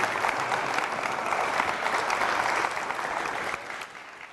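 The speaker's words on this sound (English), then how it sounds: "Round of applause for our panel." A conference audience at a judge conference claps for a panel, a dense, sustained round of applause that thins and fades slightly toward the end.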